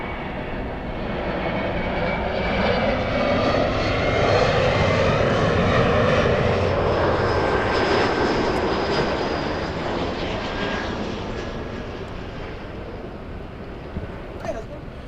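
An airliner on the Orlando flight roars past at LAX airport, the engine noise swelling to a broad peak and then slowly receding while people talk nearby.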